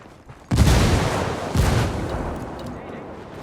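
A frag grenade detonates in Ghost Recon Wildlands, two loud, close blasts about a second apart, each a heavy low boom with a rumbling tail that slowly fades.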